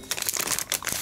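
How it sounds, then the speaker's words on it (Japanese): A plastic zip bag from an insect specimen kit crinkles and rustles as it is handled and sealed, close and crisp in short quick bursts. "袋のチャックをしっかり閉めます"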